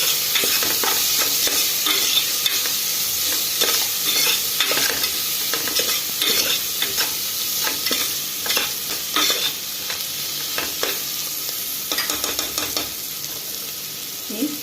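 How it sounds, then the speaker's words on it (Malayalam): Green chillies and curry leaves frying in a pan for green peas curry, a constant loud sizzle and hiss with frequent scraping taps from a spoon stirring, close up and without talk. "കറിവേപ്പില നന്നായിട്ടൊന്ന് ഇളക്കി കൊടുക്കാം"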